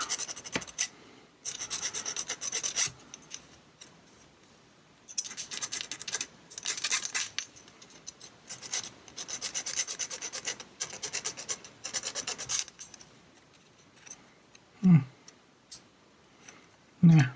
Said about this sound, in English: See if it sands different than normal PLA.